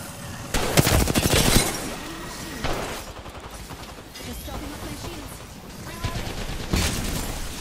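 Rapid automatic gunfire in Apex Legends, repeated bursts of close, loud shots with sharper peaks near the start and end, with players talking in between.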